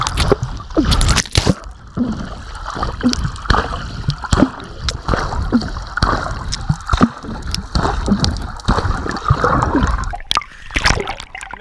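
A swimmer does butterfly-kick strokes in water, producing repeated close splashes and sloshing bursts in an irregular rhythm, with no talking.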